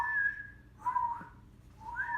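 Person whistling in imitation of a chickadee call: three soft, clear two-note phrases, each a high tone dropping to a lower one, evenly spaced and quiet.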